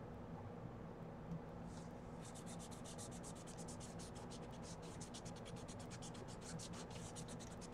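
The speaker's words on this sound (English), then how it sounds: "I'm just kind of rubbing it in so it kind of makes it look like it's been on this page for a while" Fast rhythmic scratchy rubbing of coloring medium into a thick coloring book page, close-up and fairly quiet over a steady background hum.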